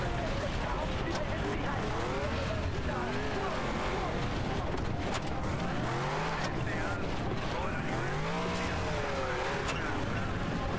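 A buggy's engine revs and whines as it climbs a steep mountain path in the video game Far Cry 3, with a continuous loud drone and shifting pitch and someone talking throughout.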